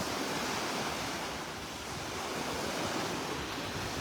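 Ocean surf at a beach with clear water, breaking and washing in a steady, continuous roar, moderately loud with some wind noise on the microphone. No voices are heard.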